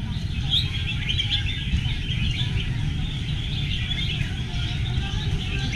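Red-whiskered bulbuls sing at an outdoor bird contest, with continuous overlapping chirps and whistles over a dense, steady crowd murmur, fairly loud throughout.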